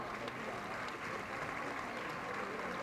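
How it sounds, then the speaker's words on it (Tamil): An audience in a large auditorium gives a big round of applause, a thick, sustained roar of many clapping hands, steady and fairly loud, with faint voices mixed in. "பெரிய கைத்தட்டல் கொடுத்துடலாமா"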